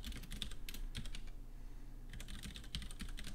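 Typing on a computer keyboard while entering WordPress setup values: two quick flurries of close, light keystrokes separated by a brief pause, with no talk.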